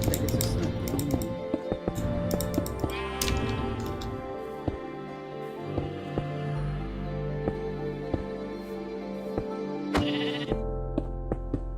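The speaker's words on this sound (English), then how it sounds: "Get out of the way, sheep." Sheep bleat in a block-building video game, sounding over a busy music bed with steady keyboard-like clicking; the bleats come and go across the stretch.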